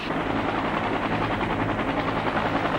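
Helicopters lift evacuees out during America's final hours in Vietnam, a continuous, loud, dense rotor roar with steady chopping texture and no pauses.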